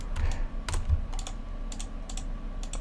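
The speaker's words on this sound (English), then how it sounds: "When I hold shift and by clicking 2 times left mouse button, double click, I can use loop selection." Left mouse button double-clicks during Blender 2.80 UV unwrapping work, sharp dry clicks in loose pairs and singles spread across a few seconds over quiet room tone.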